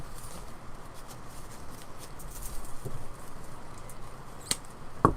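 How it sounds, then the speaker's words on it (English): Steady rain patters outside during an indoor spring wreath-making session, a constant soft hiss with a few faint taps and knocks near the end. "it's so relaxing just hearing the rain."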